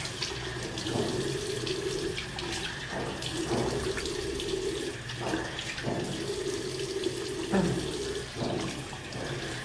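A tap runs steadily close by while a face is washed with Avari cleanser, and splashes and pauses in the flow come at regular intervals as the hands scoop water.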